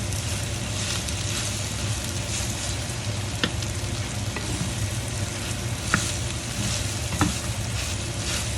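Beef stir fry with bay leaf and black pepper sizzling steadily in a pan, a loud, constant frying hiss broken by a few sharp clicks of a utensil stirring and scraping.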